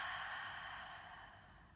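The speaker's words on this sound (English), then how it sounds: "you can inhale through your nose, filling the belly with air, and exhale" Slow, deep exhale at the end of a yoga breath, a long soft airy breath that gradually fades, close and quiet.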